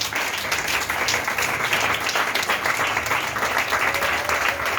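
A church congregation at a Pentecost service applauds with dense, sustained clapping that holds at an even, fairly loud level from start to finish.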